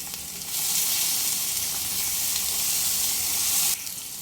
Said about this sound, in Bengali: আবারও মিডিয়াম ফ্লেমে প্রায় দু মিনিট কষিয়ে নেব